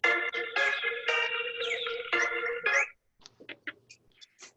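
Phone ringtone going off during a meeting, a melodic electronic ringing pattern for about three seconds, then a few faint beeps and clicks as it stops.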